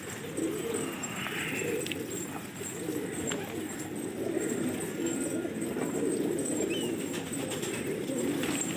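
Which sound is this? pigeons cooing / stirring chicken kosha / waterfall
pigeons cooing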